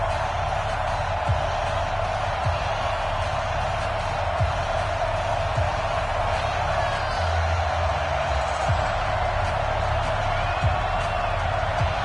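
A stadium crowd at an NFL game, Cleveland Browns at Denver Broncos in Denver, fills the air with a dense, steady roar that stays loud and continuous throughout without distinct peaks.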